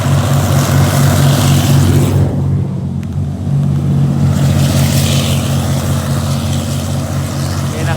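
Thai diesel railcar GEK 4045 running as a three-car train with three 350 hp engines, a loud steady low diesel drone with rumbling harmonics that dips briefly then resumes, near and continuous.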